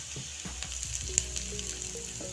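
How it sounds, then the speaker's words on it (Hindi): Garlic and chopped ginger frying with spices in a pan for paneer do pyaza, a soft continuous sizzle with light stirring clicks and scrapes, close but fairly quiet, with no talk. "अब इसमें लहसुन डाल देंगे, कटा हुआ अदरक डाल देंगे"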